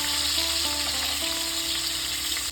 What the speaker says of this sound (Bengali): খুব বেশি পনিরটা ভাজবো না, হালকা করে ভাজবো।